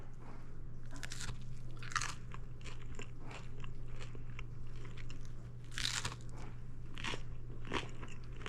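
Crispy cauliflower crust frozen pizza baked in a cast iron pan is bitten and chewed close up, with sharp crunches at irregular intervals over a constant low hum.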